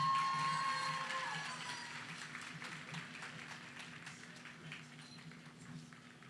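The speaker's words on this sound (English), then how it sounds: "Let's give a big round of applause to the entire class of 2022." At a North Creek High School graduation ceremony, the crowd applauds the class of 2022: a dense patter of clapping that is loudest at first and then gradually thins out.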